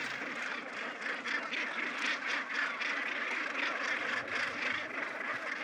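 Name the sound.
gannet colony calling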